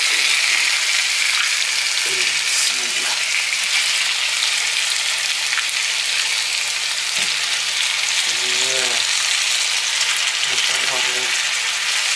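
Ginger and garlic frying in hot oil for prawn biryani, a steady dense sizzle running throughout, with a few faint voice fragments and light clatters breaking through now and then.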